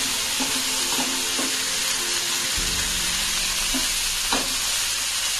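Chopped spinach and fenugreek leaves cook in a hot pan with a dense, constant sizzle and a few light stirring taps, close and even throughout.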